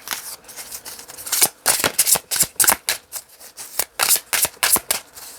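Oracle cards being cut and shuffled, a run of quick papery riffles and flicks that come in uneven bursts, close up, with no talking.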